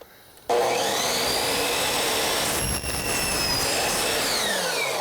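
A power saw cutting lumber for a carport being turned into a screened porch, starting up abruptly after a brief quiet moment, then a loud, close, steady whining roar that dips once briefly as the blade moves through the wood.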